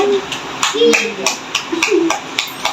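Hands clapping in a steady rhythm along to a children's song, about a dozen sharp claps spaced evenly, mixed with singing voices close by.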